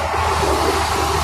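A slow Philippine passenger bus heading to GMA Avenue hums with a heavy-sounding engine, a steady, close, noisy rumble throughout with no speech.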